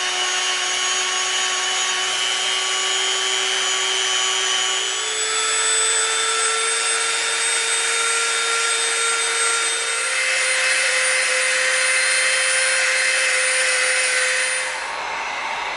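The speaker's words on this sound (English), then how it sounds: "we'll get the Dremel out, we'll soften up the edges around the outside just a little bit" A Dremel rotary tool sands and rounds the edges of cut EVA foam for a medieval crossbow prop, a steady high whine with grinding friction that shifts pitch slightly as the load changes and cuts off near the end, close and alone.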